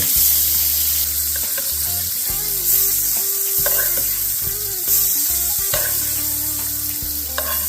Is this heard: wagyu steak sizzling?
yes